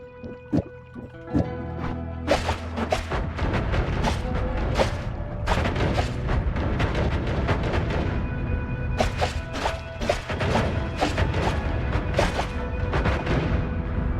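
Lance spells fired from a wand in Noita go off as a rapid run of sharp thuds and crackling impacts, irregular and fairly loud, with clustered bursts and brief gaps between them.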